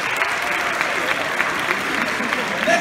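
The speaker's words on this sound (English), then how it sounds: "Give him a round of applause, Crispus Attucks, yeah?" A school audience at a community event gives a round of applause, steady dense clapping throughout with a few louder slaps standing out and some crowd voices underneath.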